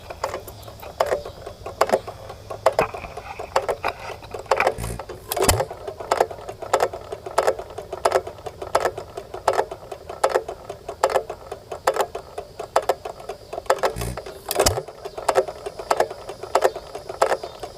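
An Eaton Contract Motor T hit-and-miss engine chugs close by with a steady stream of sharp, regular mechanical clicks and ticks, punctuated by a couple of louder firing thumps, with no talking.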